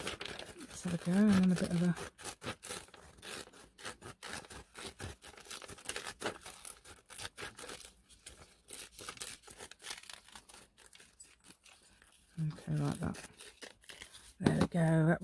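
Scissors snip and rustle through paper while paper flowers are cut out for a junk journal, crinkly cutting sounds coming in irregular bursts under steady talk from a crafter nearby.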